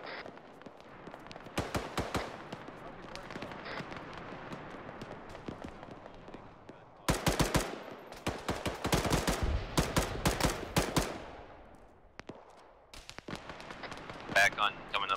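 Rapid bursts of ARMA 3 gunfire crack in clustered volleys, loud and close, around the two and seven-to-eleven second marks, with scattered shots after and voices talking over the fighting.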